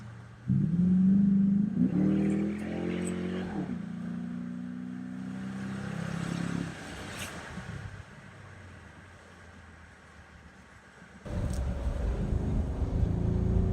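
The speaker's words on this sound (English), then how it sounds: "a quick little exhaust note with the windows down" Jeep Grand Cherokee Limited 4x4 with the 5.7 Hemi V8 accelerating with the windows down, a deep engine note rising through gears, easing off, then a loud renewed surge near the end.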